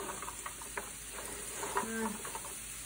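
Stirring butternut squash and carrots through a spice and oil mixture in a pot: faint, soft scraping and gentle sizzling under a steady hiss, with small irregular clicks of the spoon.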